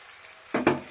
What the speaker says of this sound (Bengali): সকাল সকাল ডিমের অমলেট দিয়ে শুরু করলাম।